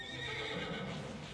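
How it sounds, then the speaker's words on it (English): A faint horse whinny with soft clip-clop hooves from the city-building game SimCity Cities of Tomorrow, quiet and brief beneath low background game ambience. "You hear the horse."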